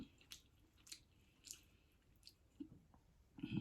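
Soft, close-up chewing of onion rings with crisp bites and wet squishes comes at irregular intervals in a quiet room, with no talking.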